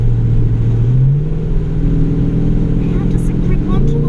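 A 2016 Holden Commodore VFII SS-V engine drops back a gear, a loud steady low drone from inside the cabin whose pitch climbs smoothly after the downshift and holds at higher revs.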